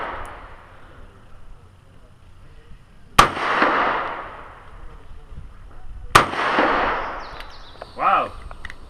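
Two sharp handgun shots crack out about three seconds apart at a shooting range, each loud and followed by a brief rolling echo, with quiet open-air background between them.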